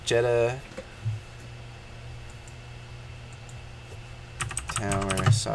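Rapid clicking from a computer keyboard as a search is typed, close and moderately loud, in bursts at the start and again near the end, with someone speaking over parts of it and a low background hum.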